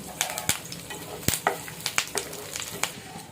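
Crushed garlic, dried red chilies, tempering seeds, cumin and fresh curry leaves crackle and pop in hot oil, sharp irregular spits and bursts over a steady sizzle, close and loud.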